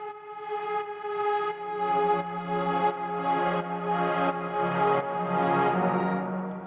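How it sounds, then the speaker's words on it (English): Airy, ethereal synth pad compressed with the Apple compressor, sustaining as a steady layered tone with soft rhythmic pulsing throughout, alone with no voices. "So it sort of becomes this airy, sort of ethereal pad."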